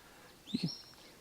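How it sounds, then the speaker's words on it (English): A single bird calls along a mountain hiking trail, giving one short, high whistled chirp. It is faint and set against quiet outdoor background. "hear the birds every once in a while."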